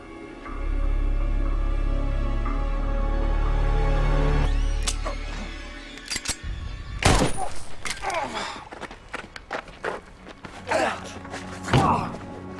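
A gunshot fires during a tense standoff in a detective mystery film scene, a sharp loud crack followed by scattered thuds and bursts after a low rumbling lead-in.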